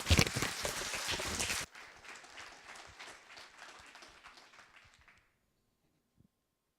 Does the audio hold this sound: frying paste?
no